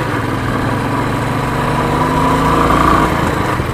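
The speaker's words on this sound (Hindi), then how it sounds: "इंजन आवाज कर रहा है आपका, ये देखो आवाज कैसी है।" A 2021 Royal Enfield Classic 350 engine runs steadily at a showroom delivery with a reported odd noise, giving a loud, continuous close-up thumping drone with no speech over it.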